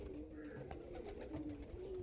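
Andhra Abluk and Kalanka pigeons cooing close by, soft low repeated coos running steadily throughout over faint background noise.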